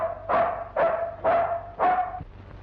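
From an old Tamil film, a dog barks four times in a steady, evenly spaced rhythm, each bark loud, close and ringing, with no talk over it.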